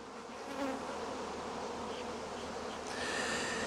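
Honey bees buzz in a crowded hive brood chamber, a dense continuous drone from many insects close by, swelling slightly partway through with no talking.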